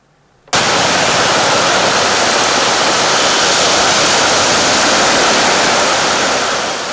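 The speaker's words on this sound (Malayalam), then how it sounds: "കനത്ത മഴയിൽ തൃശൂർ അശ്വിനി ആശുപത്രിയിൽ വീണ്ടും വെള്ളം കയറി" Floodwater from heavy rain at Ashwini Hospital in Thrissur makes a loud, continuous roar of rushing water that starts abruptly and holds steady throughout.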